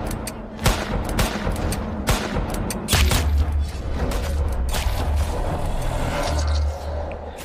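Gunfire in the Roblox horror game Agony, set in a forest full of ghosts and monsters: dense bursts of rapid shots and booms crowd the first three seconds, followed by a lower rumbling mechanical drone with scattered cracks.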